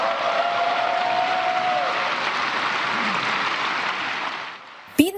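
Long sustained applause and cheering fills a legislative hall for President Ferdinand R. Marcos Jr. at his State of the Nation Address, a dense crowd roar that fades out at the end before a brief close knock.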